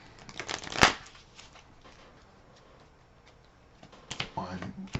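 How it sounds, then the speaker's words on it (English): A deck of Marvel Champions game cards being shuffled close by: a sharp riffle burst early on, then a quieter flurry of card flicks near the end, with near silence between. "I'm gonna shuffle my deck a little bit here."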